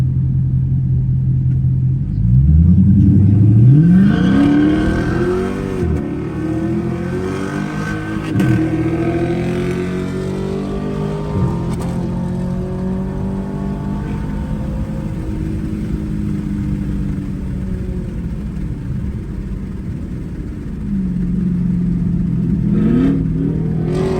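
A car's engine revs hard with tires spinning and sliding, a loud rumbling roar that rises sharply near the start and then holds a fluctuating, grinding pitch throughout, with no talking.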